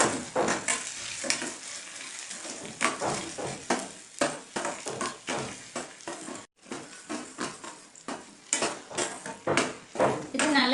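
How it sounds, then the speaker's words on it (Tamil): A spoon scrapes and clatters repeatedly against a pan while ghee-soaked sago is stirred over gentle sizzling for kesari, in close, irregular strokes. "நெய்யில ஊற வச்சு வச்சிருக்கிற ஜவ்வரிசியை இதுல போட்டு நல்லா மிக்ஸ் பண்ணி விட்டுருங்க."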